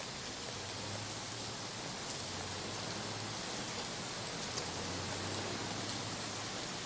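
Steady rain falls without pause, a soft even hiss that holds at the same level throughout with a faint low hum beneath it and no voices.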